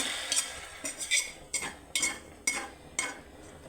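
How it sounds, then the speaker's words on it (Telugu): A spoon stirs tempering into lentil broth in a metal pot, making a run of close, regular scraping clinks with no talking. "తాలింపు ఇప్పుడు కలిపేస్తున్నాం"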